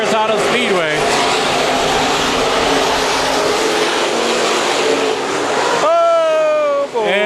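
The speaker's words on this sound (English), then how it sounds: "Good racing here from the Perris Auto Speedway." IMCA Modified race cars howl around the dirt oval at Perris Auto Speedway, a loud, continuous wall of engine noise with whining pitch sweeps at the start and again as the pack closes in near the end.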